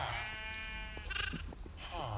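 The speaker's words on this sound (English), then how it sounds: "There's a baby white sheep," A white sheep in a video game gives a drawn-out bleat, followed by brief clicks and a second shorter bleat near the end, with game sounds beneath.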